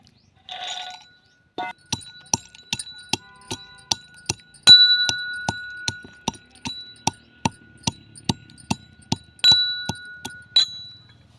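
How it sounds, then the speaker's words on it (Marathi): Almonds are pounded by hand for sesame laddoos, with a steady series of sharp, ringing metallic strikes, close and clear, nearly twenty hits at an even beat. "आता बदाम आपण कुटून घेऊया"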